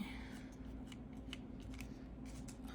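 Scissors fussy-cut around floral paper motifs for junk journal collage pieces, giving a steady run of soft, close snipping and paper rustle over a low background hum.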